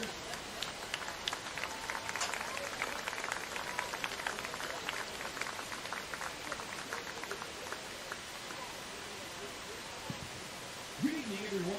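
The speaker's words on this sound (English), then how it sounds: "Ladies and gentlemen, one big round of applause for all of our seniors." A distant stadium crowd at a high school varsity football game applauds and cheers in a steady, diffuse wash for the senior players, while a voice talks faintly underneath and a louder bump comes near the end.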